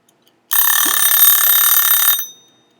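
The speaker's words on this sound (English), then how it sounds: "Has your buzzer gone off yet? I think mine is just about to go off." An oven timer buzzer goes off during muffin baking, a loud, steady electronic ring lasting under two seconds and then cutting off, with quiet surroundings before and after.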